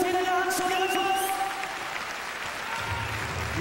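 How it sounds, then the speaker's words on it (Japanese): Sustained applause from a large arena crowd honoring both fighters after a PRIDE 31 mixed martial arts bout, a dense steady wash of clapping that fades slightly midway, with a faint tonal hum beneath. "皆様、両選手に"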